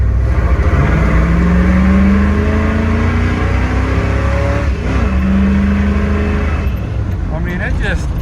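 The engine of a 1979 Ford Super Cab 4x4 truck revs and pulls, its pitch climbing in loud rising sweeps, easing off and then climbing again close by.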